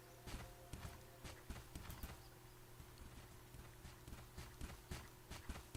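Hooves of a fire horse clop in the Bella Sara video game, a quick, steady stream of faint hoofbeats over a constant low hum with no voices.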